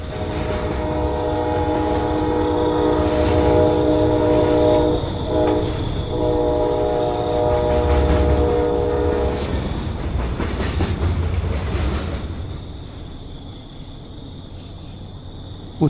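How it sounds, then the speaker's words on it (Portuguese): A train coming to a halt at night, its brakes squealing in long, loud, sustained tones over rumbling wagons before the noise fades to a quieter rolling hum as the cars stop. "quando os freios chiaram e os vagões pararam no meio da noite"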